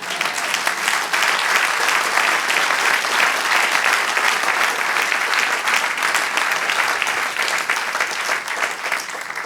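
A church congregation applauds during a Spanish-language sermon, steady dense clapping at an even level for the full nine seconds, no voices on top.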